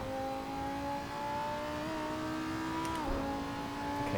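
A race car engine in the Assetto Corsa racing game holds a steady, droning whine with a slight dip in pitch near the three-second mark, as if lifting off before holding speed again.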